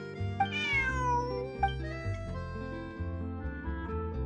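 A cat character in the video game Genshin Impact meows several times, with clear, rising-and-falling calls over steady background music and no talking.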